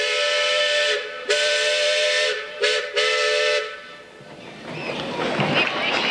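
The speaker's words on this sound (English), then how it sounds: "let me hear that whistle" A loud steam-type whistle on a parade vehicle at a small-town sesquicentennial parade blows three blasts, a long one followed by two shorter, then gives way to crowd and street noise.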